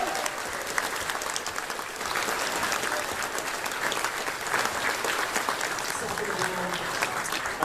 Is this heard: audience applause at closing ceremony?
yes